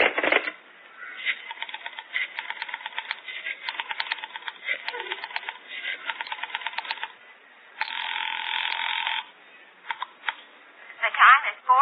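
A rotary telephone is dialed in an old-time radio comedy performance, giving a series of clicking pulse bursts followed by a sustained ring tone, close and fairly loud, with voices briefly heard.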